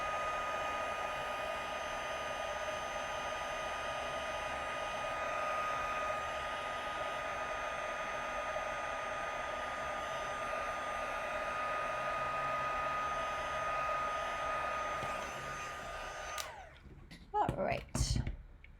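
An embossing heat tool melting powder on a handmade Christmas card gives a steady whirring blow for about sixteen seconds, then cuts off, followed by a few close handling clicks and bumps.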